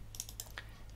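Several quick keystrokes land on a computer keyboard in a quiet room, a short irregular burst of soft clicks over a low background hum, with no voices.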